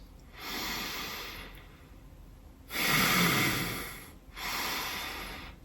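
Slow, deep breaths drawn and released while holding pressure on a tight spot along the jaw, three long airy swells with a heavier exhale in the middle, close and unaccompanied.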